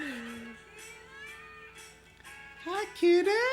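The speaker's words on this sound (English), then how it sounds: "Hi, kitty." A cat meows with rising and falling tones, a few drawn-out calls growing louder toward the end, heard over a busy background of other voices and game sounds.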